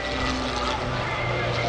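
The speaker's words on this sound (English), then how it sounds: "Rob Holland controls it in such a way that the airplane does exactly what he wants it to do" A propeller aerobatic airplane performing snap rolls at the 2016 NAS Oceana airshow gives a steady engine drone in the distance, heard beneath a commentator's voice.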